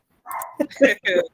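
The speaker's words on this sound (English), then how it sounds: "yeah, that's my dog" A Yorkie dog gives a few short, close barks in quick succession, overlapping with a person speaking nearby.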